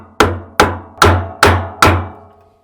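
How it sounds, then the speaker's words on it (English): A hammer strikes a scrap wood block five times at an even, steady pace to knock loose the clutch of a Samsung WA456DRHDWR/AA washing machine, each hit a sharp, close knock with a short ringing decay. "If that doesn't work, use a scrap piece of wood and a hammer."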